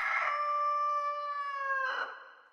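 A rooster crows in the horror video game DreadOut. It is one long, loud, tonal cock-a-doodle-doo that holds steady, then rises briefly near the end before trailing off, with no talk over it.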